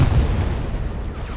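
A video game match explosion: a single deep boom at the start that decays into a low rumbling tail, loud and alone.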